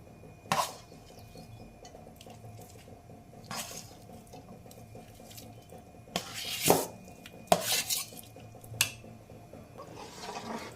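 A spoon stirring grated potato mixture in a pan, giving soft scraping with a few sharp clinks and knocks against the metal, sparse at first and busier toward the end.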